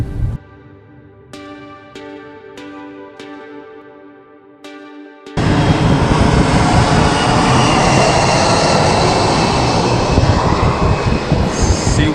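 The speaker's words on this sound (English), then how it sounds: "hope you guys heard me over that loud airplane" A loud airplane roars overhead at a fishing jetty in Singapore, arriving abruptly after a few seconds of sparse clicks and tones and holding a dense, sustained rumble to the end.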